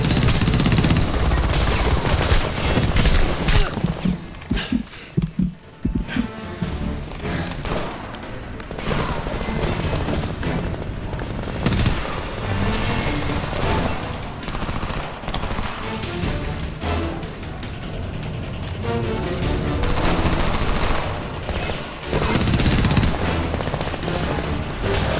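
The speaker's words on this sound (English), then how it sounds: "Machine gun, second floor window." Machine gun fire rattles almost without pause in the 2011 war shooter Homefront. Loud, dense bursts of rapid shots, with a heavy rumbling battle din behind them, run throughout with only short lulls.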